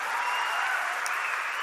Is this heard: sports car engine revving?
no